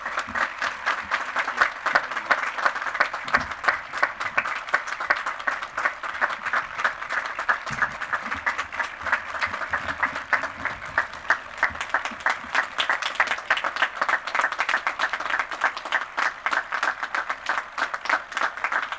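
A large audience at a university fall convocation breaks into sustained, steady applause, dense rapid clapping filling the space for many seconds without any talk.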